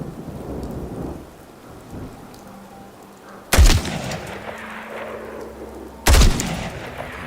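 Video game gunfire at a gun turret in the Corvega Assembly Plant: two sharp, heavy booming shots a few seconds apart, each with a long rumbling tail over a steady noisy background.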